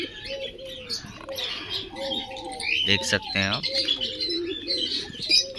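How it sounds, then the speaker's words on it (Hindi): A pair of prized pigeons coo softly with a few chirps mixed in, close by, while someone talks over them. "माशाल्लाह बहुत ही नायाब कबूतर है, आप देख सकते हैं पूरा जोड़ा।"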